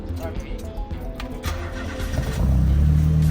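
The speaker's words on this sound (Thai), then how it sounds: "คันนี้เสียงดีนะ เครื่องดีด้วย" A Nissan Presea Sport car's engine turns over and catches partway through, then settles into a louder, steady low running rumble, with people talking nearby.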